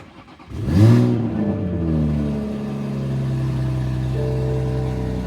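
A Toyota Supra MK5 engine cranks and fires with a loud surge near the one-second mark, revs briefly, then settles into a steady, close idle rumble with no talk.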